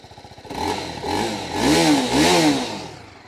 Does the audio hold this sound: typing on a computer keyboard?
no